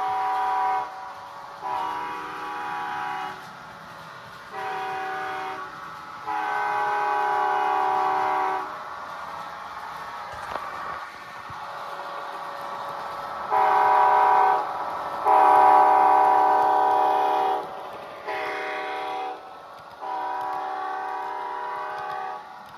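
An Athearn Genesis Union Pacific Missouri Pacific heritage model locomotive plays DCC sound horn blasts, a series of chorded horn calls of varied length with a low idling rumble between them.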